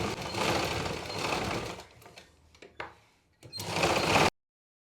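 A sewing machine stitches the lining of a princess-cut blouse in two close bursts of rapid mechanical whirring, with a few short taps and clicks in the pause between them and no talking.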